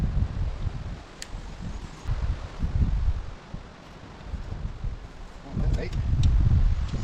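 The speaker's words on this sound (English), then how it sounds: "It's sunny, warm, but it's windy today." Gusty wind blows outdoors on a sunny, warm day, with broad low rumbling surges that rise and fall and a faint rustle riding over them; no speech is heard.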